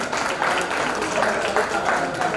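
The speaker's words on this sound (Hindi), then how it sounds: "उनके लिए जोरदार तालियां बजा दीजिए।" Sustained applause from an audience at an award ceremony, a continuous wash of clapping with a voice speaking over it.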